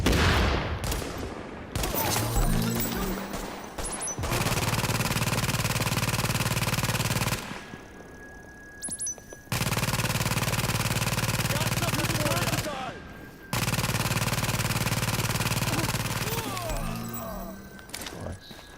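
Loud, sustained automatic gunfire and explosive blasts from Tom Clancy's The Division on PS4 fill long stretches, broken by a few short quiet gaps, with occasional talking in between.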